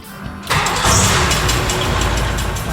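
Turbocharged Datsun car engine, cranking briefly and then catching, firing into a loud, rough idle that stays steady and close after the start.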